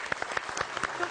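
A studio audience at a Turkish television health show applauds with steady, dense clapping, close and lively, over a short moment.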